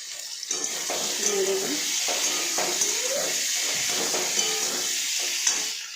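Curry ingredients sizzle and fry in a pan on a gas stove, a steady bright hissing that holds throughout, with soft clinks and a voice speaking over it.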